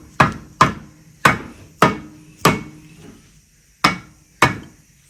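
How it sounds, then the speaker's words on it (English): Seven sharp knocks from a soft-blow hammer striking a boat propeller to free it from its shaft, close and loud, landing in an uneven rhythm with a pause before the last two blows. "soft blow hammer."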